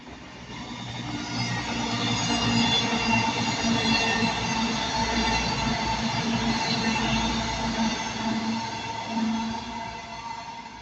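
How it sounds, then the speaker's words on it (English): A CrossCountry passenger train heading to Manchester Piccadilly, passing at Ardwick as a steady, loud rumble that builds and holds for several seconds before easing slightly. "we've got another cross country going to Manchester Piccadilly"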